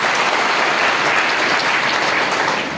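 Loud, dense applause from a crowd at a Kushwaha community gathering and memorial meeting in Bhagalpur, many hands clapping together in a continuous roar that holds steady and eases slightly at the end, with no speech.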